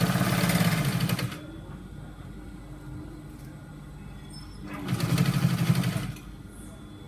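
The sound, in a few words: sewing machine stitching a trouser seam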